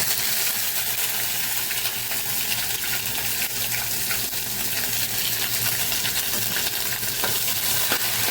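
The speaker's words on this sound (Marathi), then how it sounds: "त्याच्यानंतर आलं लसूण पेस्ट घालणार आहोत" Ginger garlic paste frying in oil with bay leaf for masoor dal, a loud continuous sizzle with small clinks and stirring scrapes on top, close and without talk.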